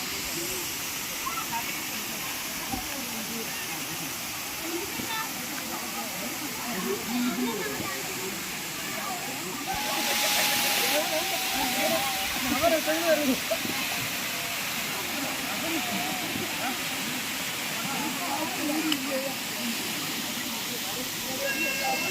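A waterfall on an outing pours down into a second pool, a steady rushing hiss that swells briefly midway, with voices talking over the constant water noise.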